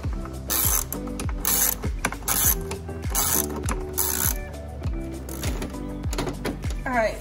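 A ratchet turns screws loose on a Jeep 3.7L V6 engine, giving quick rhythmic bursts of clicking with short pauses between strokes, close and distinct, while a person speaks briefly.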